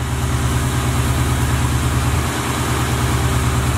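A boxy Chevrolet's carbureted engine idles steadily up close, a deep, even rumble with a regular low pulse throughout. It runs smoothly despite a recently found small crack near the PCV fitting at the carburetor, and it still needs new spark plugs.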